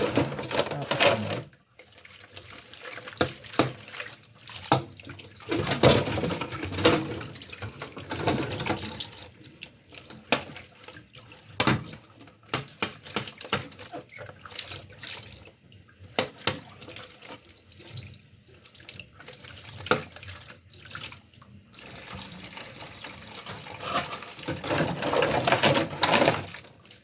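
Tap water runs continuously while dishes are washed by hand, with a steady rushing stream broken by clinks, splashes and brief pauses over nearly half a minute, fairly close and loud.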